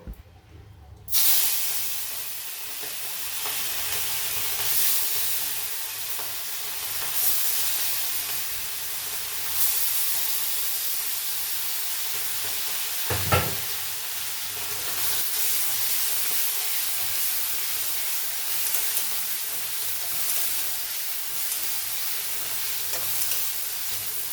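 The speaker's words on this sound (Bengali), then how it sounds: "এবারে শামুকটাকে কড়াইতে দিয়ে দেব" Snails fry in hot salted oil in a wok, a continuous close hiss and sizzle with occasional stirring scrapes and one sharp clank midway, steady and alone for over twenty seconds.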